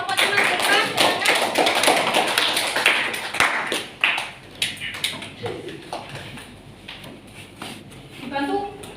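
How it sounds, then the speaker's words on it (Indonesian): Classroom students clapping for a group during a chemistry lesson, a burst of scattered hand claps that thins into sparse taps, with a teacher's voice briefly audible near the end. "kita beri tepuk tangan dulu untuk kelompoknya Mas Zulfan"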